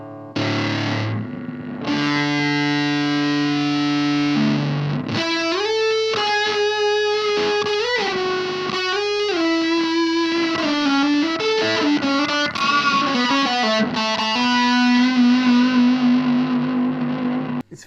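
Electric guitar played through a heavily distorted digital multi-effects tone, sustained chords and lead lines ringing with a bright, fizzy top end, loud and continuous.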